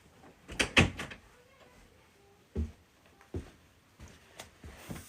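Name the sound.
door being shut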